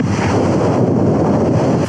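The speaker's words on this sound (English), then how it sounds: "the wind's coming in" Strong wind buffeting a microphone at a tent camping spot, a loud, dense, continuous roaring rumble with no pauses.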